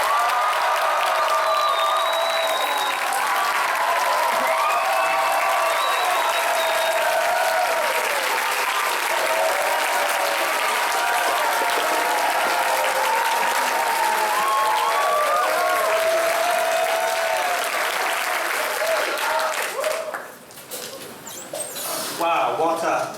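A school audience at a London New Year's Parade invitation ceremony at a high school gives loud, sustained applause with scattered cheers, a dense wash of clapping that dips briefly near the end before swelling again.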